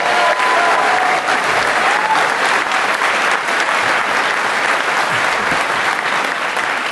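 A large audience at the DEF CON 22 hacker convention closing ceremonies applauds contest winners, steady dense clapping that holds at full strength throughout and eases slightly toward the end.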